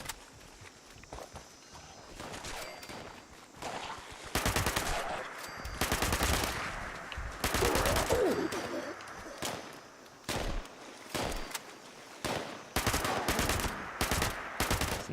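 Perfect Storm 10mm SMG with a stabilized stock and short barrel firing in Fallout 76, loud rapid automatic bursts in several strings with short pauses between them, over game ambience with footstep-like clatter.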